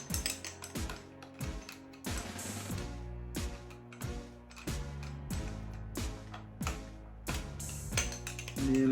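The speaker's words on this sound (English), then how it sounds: "the final thing to do is find the thread, and screw it" Flathead screwdriver turning the threaded spring guide of an AEG airsoft rifle into place, giving a steady run of close, sharp ratcheting clicks in a quick rhythm with no talk.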